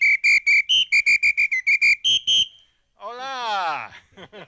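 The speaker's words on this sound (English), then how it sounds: "what you just heard was a samba whistle from Brazil" A Brazilian samba whistle blown in a rapid string of loud, sharp staccato blasts at a parade, followed by a pause and then an excited sliding voice cry.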